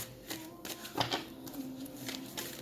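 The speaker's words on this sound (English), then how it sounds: "Let me shuffle some more." Tarot cards being shuffled by hand, a quiet, close series of quick papery riffles and slaps repeating irregularly over a few seconds.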